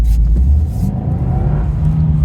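A Subaru WRX sedan with a turbocharged 2.5-liter four-cylinder and six-speed manual pulls hard under acceleration, a steady, loud, low engine drone with rising whir, heard from inside with no talking.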